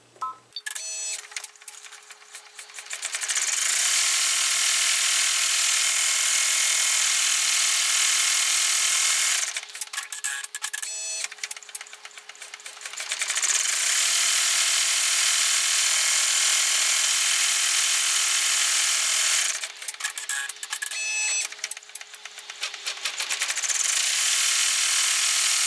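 An embroidery machine stitches an in-the-hoop window wallet, running loud, dense whirring bursts of stitching separated by short pauses with lighter clicking, three long runs in all.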